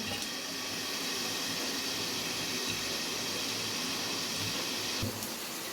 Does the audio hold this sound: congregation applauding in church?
no